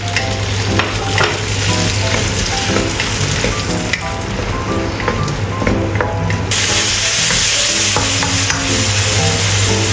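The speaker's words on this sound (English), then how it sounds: "Add tomatoes and stir-fry until release red oil." Tomatoes stir-fried in a hot pan for an eggplant and mushroom dish sizzle loudly and continuously, with the scrape and clatter of stirring throughout and a brief hiss of spray.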